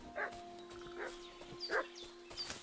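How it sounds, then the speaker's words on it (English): A dog in the medieval game Kingdom Come Deliverance 2 gives several short, mid-distance barks and yips, with faint background tones and no speech. "Dog's barking again, that's not good."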